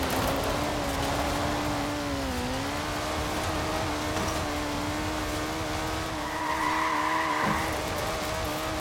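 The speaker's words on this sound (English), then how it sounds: "these fields at the side of the airstrip are perfect for getting these drift skills in your Rally Monsters car" A Rally Monster car in Forza Horizon 4 drifts across fields beside an airstrip, its engine droning steadily with a wavering pitch while tires scrub and squeal through continuous sliding.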